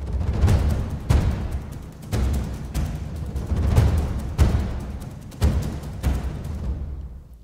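Low notes in a cinematic action track with drum rolls, with heavy booming hits landing roughly every second over a rumbling, rolling percussion bed, dense and loud throughout.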